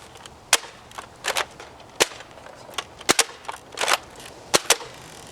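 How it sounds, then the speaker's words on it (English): Nerf dart guns modified with Orange Mod Works fire about a dozen sharp, snappy pops, some in quick pairs and some spaced apart, each a crisp crack with a hollow whoosh, close and clear over a quiet room. "we shot the black strips with the gun modified with orange mod works"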